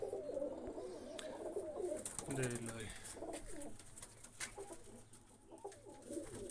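Pigeons coo repeatedly at close range in a household coop, low soft calls overlapping with other bird sounds and a person talking nearby.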